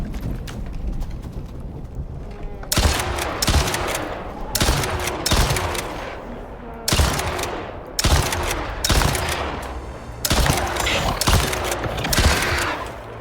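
Gunfire in the survival video game Icarus, a series of loud sharp shots in irregular bursts every second or two, each with a booming tail, close and alone.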